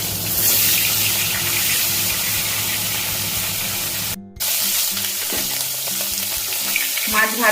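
Bhangar fish sizzling in a pan of hot oil while being turned: a dense, crackling fry noise over light background music, broken by a short gap partway through before the sizzling picks up again.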